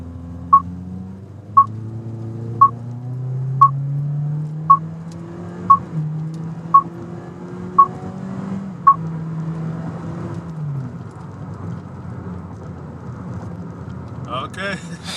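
A 2017 Toyota Corolla accelerates hard in automatic mode, its engine note climbing steadily in pitch while a row of nine evenly spaced beeps sounds over the first nine seconds.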